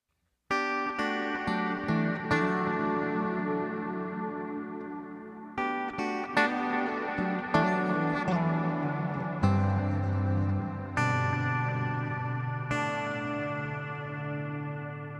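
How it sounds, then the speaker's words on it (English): Clean electric guitar chords and picked notes, played through a Soldano Astro-20, ring out with a smooth, compressed attack and a lush reverb and delay tail, playing alone. "throw on some compression and some reverb delay, you have a beautiful textural clean sound"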